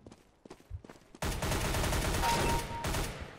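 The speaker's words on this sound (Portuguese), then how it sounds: "Tô escutando tiro aqui" Loud, rapid gunfire in Counter-Strike: Global Offensive erupts after a few faint footstep-like taps, continuing as a dense fusillade for over two seconds, close and alone.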